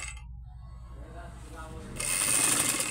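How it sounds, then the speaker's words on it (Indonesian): A manual sewing machine runs a straight line of stitches, giving a steady mechanical whir that grows louder and brighter partway through. "Lalu untuk jahit biasa tinggal kita jahit lurus seperti ini."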